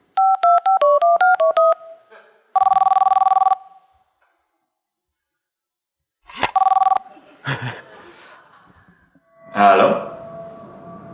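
A toy phone plays a quick run of dialing tones, then a sustained ring tone, followed after a silent pause by more electronic beeps and tones, with brief voice-like sounds near the end.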